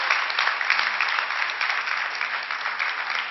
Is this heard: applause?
yes